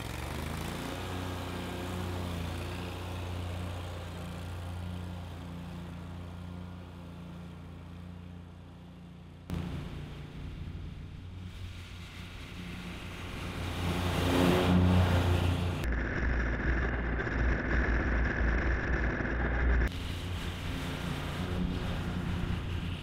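A small EFI lawn mower engine drones steadily nearby while cutting grass, its pitch and loudness shifting as it works, with occasional wind buffeting the microphone.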